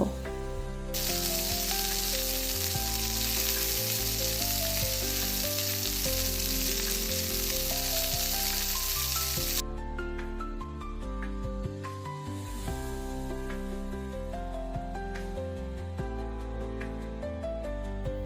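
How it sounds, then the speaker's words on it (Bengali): Garlic and onion fry with salt in oil for a Bengali hilsa curry, giving a loud continuous sizzle that is strongest for the first half before settling to a quieter crackle. "পরিমাণ মতো লবণ দিয়ে রসুন আর পেঁয়াজটাকে খুব ভালোভাবে কষিয়ে নেব"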